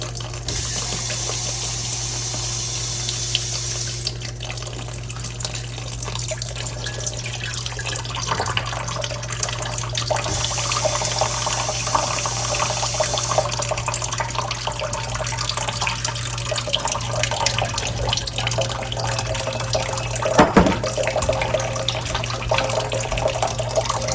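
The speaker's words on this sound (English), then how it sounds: "So that's a ton of water going down into the drip tray." A 50 cl pitcher of water pours steadily into the drip tray of an ECM Synchronika espresso machine with direct plumbing, a continuous close splashing and trickling flow lasting throughout with no talk.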